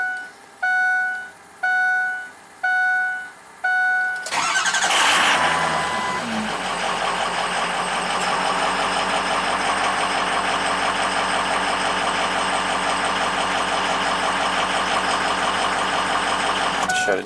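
A 2004 Ford F450 with a PowerStroke diesel, its alternator recently replaced, gives a few warning chimes, then cranks and fires. The engine settles into a steady, loud diesel idle that runs without a break.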